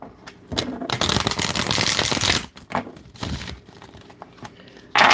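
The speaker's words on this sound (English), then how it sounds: "I can't really do with these big cards, but there's a perfect shuffle for you" Playing cards riffle and flutter in a quick burst, followed by lighter taps and clicks as the deck is squared up.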